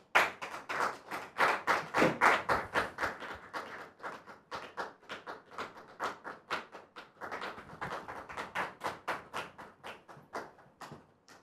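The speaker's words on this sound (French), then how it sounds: "Je voudrais vous demander de la recevoir sous vos applaudissements," A studio audience claps in long, dense bursts of applause that swell and fade in waves, loud and sustained with no voices over it.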